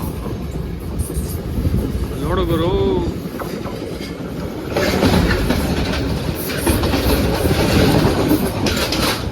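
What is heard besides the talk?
train passing, Sri Lanka railway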